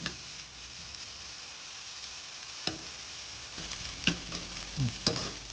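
Ginger garlic paste fries with golden-brown onions in oil for a vegetable kurma, giving a soft, continuous sizzle with occasional spoon clinks and stirring knocks, quiet and close.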